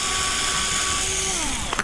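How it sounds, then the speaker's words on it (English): Power drill with a 1/8 inch bit boring holes through quadcopter motor mounts, a close, steady high whine that slows and drops in pitch near the end. "we're using an 1/8 inch bit, and we're going to drill"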